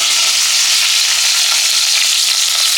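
Curry leaves fry with rice and small onions in hot oil, giving a steady, loud, close sizzle that runs unbroken with no voices.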